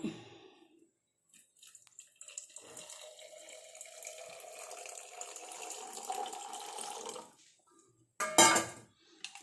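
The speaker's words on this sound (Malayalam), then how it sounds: "വെള്ളം നമുക്ക് ഇനി ഒഴിച്ചു കൊടുക്കാം" Water is poured steadily into a bottle for several seconds while a coffee-based hair tonic is made, followed by a short, louder clatter near the end.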